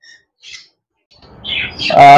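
Budgerigars at a Mirpur bird market give a few short, high chirps, then a person starts talking and the voice dominates the end.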